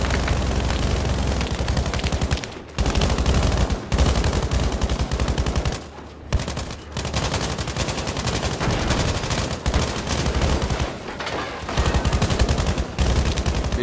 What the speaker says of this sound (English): we're still laying down suppressing fire